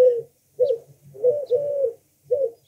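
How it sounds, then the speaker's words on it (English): Eurasian collared dove cooing on a walk through Juniper Hills and Big Rock Creek, with repeated soft, low coos in a three-note phrase, fairly close and clear against a quiet background. "the first bird sound we hear is the three-note cooing of the Eurasian collared"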